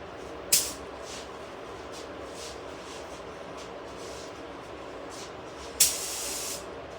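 A paint spray gun lays down a wet coat, heard as two sharp hissing bursts, a short one early and a longer one near the end, over a quiet background hum.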